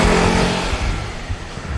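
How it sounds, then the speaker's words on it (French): A motorcycle goes by on a road with a loud, close, rough engine roar filling the short stretch and easing slightly toward the end, with no talk. "on laisse passer les véhicules motorisés"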